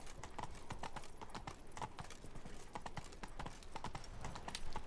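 Horse hooves clip-clopping in a steady galloping rhythm while riding in The Witcher 3: Blood and Wine, close and continuous with a faint whinny in the mix.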